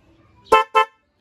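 Two short, loud honks from a newly installed stock car horn in quick succession, close by, against a quiet background.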